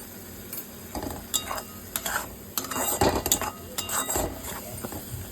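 Turmeric and salt masala is stirred and fried in a pan while cooking prawns, with repeated metallic scrapes and clinks of a utensil against the pan over a low sizzle.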